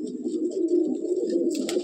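Madrasi pigeons of an old bloodline coo steadily in a loft at Sodhpur, a continuous close, warm murmuring with a few brighter flutters near the end.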